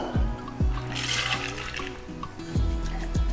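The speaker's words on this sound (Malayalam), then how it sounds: "കുറച്ച് വെള്ളം കൂടി ഒഴിച്ചു കൊടുക്കാം" Water pours into a pressure cooker holding washed lentils, a rushing splash lasting about a second and a half. Low tonal sounds and thumps continue underneath.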